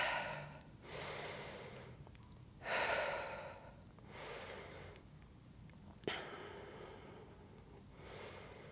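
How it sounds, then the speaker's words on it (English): Slow, deliberate breaths during a Pilates reformer workout, drawn in through the nose and pushed out through the mouth, several soft airy cycles close to the microphone with no talking. "In through the nose, out through the mouth with that breath."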